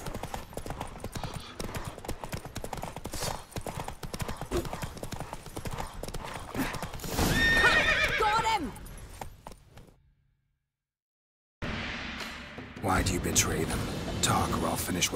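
Horse hooves clip-clop steadily through a Witcher 3 game chase, with snorts and whinnies rising loudly around the middle, a brief dropout to silence, then galloping resumes alongside in-game voices talking.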